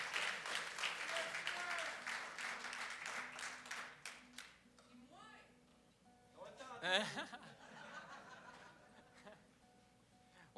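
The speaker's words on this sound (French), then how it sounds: "J'aimerais qu'on lui demande une belle main d'applaudissement, s'il vous plaît." Concert audience at a theatre album launch clapping loudly for several seconds, the applause fading out, then scattered chuckles and murmuring voices in the room.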